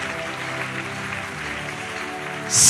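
A church congregation acclaims Prophet Joel Francis Tatu before his sermon, a loud, sustained roar of cheering and clapping over steady held musical tones, swelling slightly at the very end.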